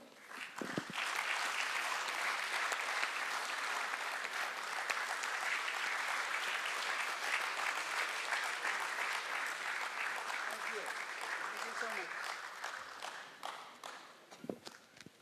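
An audience applauds at a panel discussion on Indian capital markets, with sustained dense clapping that holds steady for most of the stretch and then thins out near the end.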